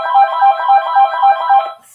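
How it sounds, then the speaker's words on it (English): Telephone ringtone trilling in a regular pulsing pattern, close and clear, sounding for under two seconds before cutting off. "We're going to let that phone ring"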